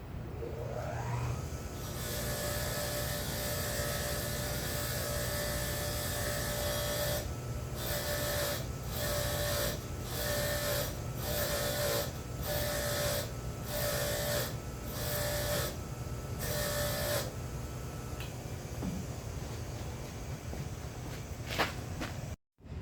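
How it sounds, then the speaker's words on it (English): A wire wheel grinds steadily against rusty front brake parts, a continuous harsh abrasive whir with a rhythmic pulsing pattern through the middle, loud and close, with no talk. "I got a wire wheel over there. This is the wire wheel here."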